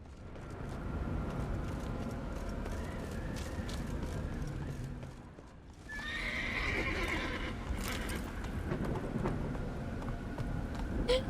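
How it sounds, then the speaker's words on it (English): A donkey from the Witcher 3: Wild Hunt video game brays and snorts amid hoof clops and game ambience, loud and near, with a short lull before a louder burst around the middle. "There's a donkey"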